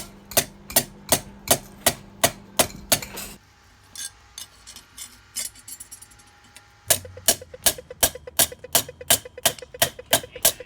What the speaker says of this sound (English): think we need a bigger hammer.